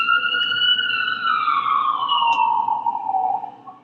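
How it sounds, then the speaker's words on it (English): Police siren wailing as it passes, a clear tonal wail slowly falling in pitch as it moves away, fairly loud and alone over a low background hum. "I was just waiting for that siren to go by"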